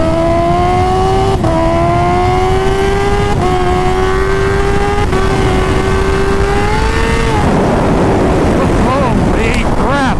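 Turbocharged Kawasaki Ninja H2 motorcycle pulling hard in second gear, a loud rising engine whine climbing steadily with brief shift-like breaks, then cutting off into wind roar and a flutter of turbo noise near the end.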